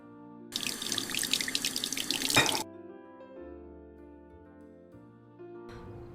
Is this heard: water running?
yes